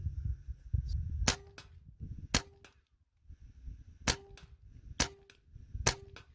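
A Benjamin Maximus air rifle firing 22-grain flat-base Griffin hollow-point slugs gives five sharp, loud cracks spaced a second or two apart. Faint handling rustle and shuffling fill the quiet gaps between shots.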